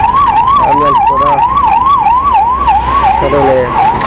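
An ambulance siren wails loud and close, rising and falling in a fast repeating cycle over a low rumble of road traffic.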